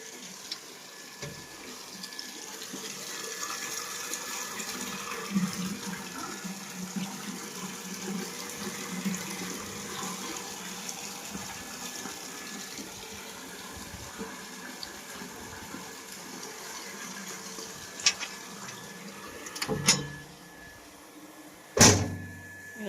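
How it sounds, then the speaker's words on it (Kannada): Tap water runs steadily into a container at home, a soft continuous stream, with a couple of sharp knocks or clatters near the end. "ಬರ್ತಾ ಐತಿ ನೀರು"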